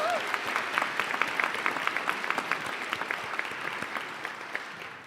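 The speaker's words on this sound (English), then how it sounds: "Can we give them one more round of applause?" A school awards-day audience applauds a string band, dense sustained clapping from many hands filling the room for several seconds, steady then tapering slightly at the end.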